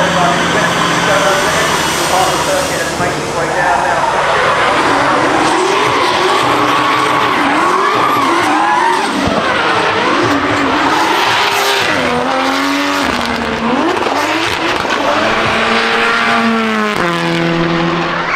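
Unusual cars arriving at the Goodwood Festival of Speed, a motoring event in England, with continuous engine revving and tyre noise close by, and people talking over it throughout.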